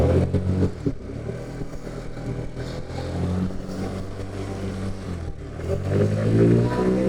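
A motorcycle on the road to a circumcision celebration gives a steady, close engine drone under rushing wind. The rumble swells slightly toward the end, with no talk.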